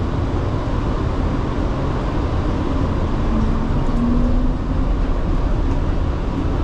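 An airport terminal train bound for Terminal 4 rolls along with a steady loud rumble and whoosh, a continuous in-car ride noise with a faint tonal whine rising briefly midway, no speech.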